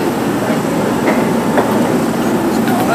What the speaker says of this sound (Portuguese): Fazer um takezinho do metrô.